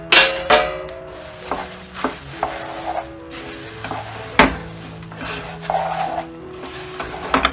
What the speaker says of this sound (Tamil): ஆறின அந்த பொரியோ நட்ஸோ அது கூட போட்டு நல்லா சேர்த்துக்கலாம்